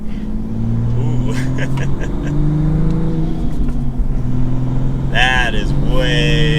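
A manual Toyota Supra in sport plus mode accelerates with a steady, loud engine drone that climbs in pitch, while a person talks over it throughout.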